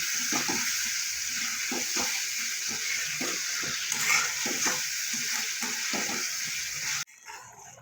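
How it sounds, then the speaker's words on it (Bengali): Spice paste sautéing in a pan with a splash of water for a Bengali bottle gourd fritter curry, a steady close sizzle with scattered stirring knocks that stops abruptly near the end. "সামান্য একটু জল দেবো, দিয়ে মশলাটা ভালো করে কষিয়ে নেব"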